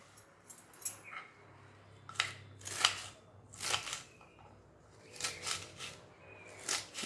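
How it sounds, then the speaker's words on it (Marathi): Taro (aalu) leaf stems are chopped for a bhaji, heard as a series of crisp knife cuts at an uneven pace, close and fairly quiet against a soft background hum. "आता सुरुवातीला देठ कापून घ्यायचे आहेत"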